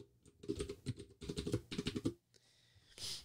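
Admin password being typed on a computer keyboard during home network Wi-Fi setup: two quick bursts of close, soft key clacks, then a short pause and a brief rustle at the end.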